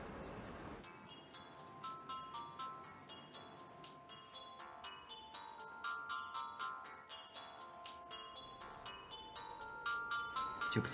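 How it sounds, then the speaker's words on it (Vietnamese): A phone ringtone plays a bright, repeating chiming melody for several seconds, steady and fairly close, with no talk over it, in a Chinese police investigation drama. "Cuối cùng các cậu cũng nghe điện thoại rồi."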